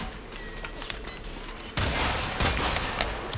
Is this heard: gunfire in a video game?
yes